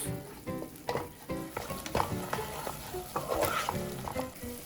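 Garlic sizzles and crackles in a hot soup pot while being stirred, with irregular scraping and popping throughout.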